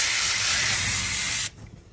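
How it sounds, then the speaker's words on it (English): Cooking spray hisses onto a pan in one steady, close burst lasting about a second and a half, then cuts off sharply, leaving quiet room tone. "Let me spray this down."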